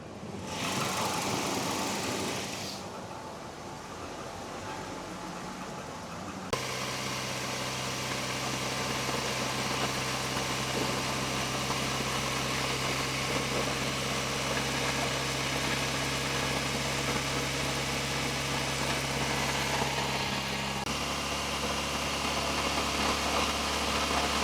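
Volvo 240 engine idling on fast idle, a steady loud mid-pitched engine hum with some vibration; an early burst of harsher noise gives way to an even, continuous idle with no voices.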